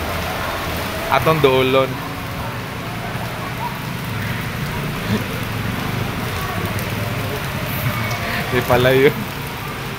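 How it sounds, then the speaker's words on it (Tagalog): Heavy rain pours down steadily outside a gymnasium in San Jose, Negros Oriental, a dense constant hiss throughout, while people speak briefly twice close by. "diri kay kusog jud ang ulan sa kuwan kanang sa may San Jose"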